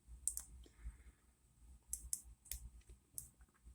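Lock pick setting pins in an Assa Ruko 2 padlock, producing a series of faint, crisp, irregularly spaced clicks with short pauses between them in a quiet room.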